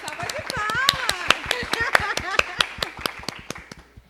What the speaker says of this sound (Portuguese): Uma salva de palmas para Deus. Salva de palmas.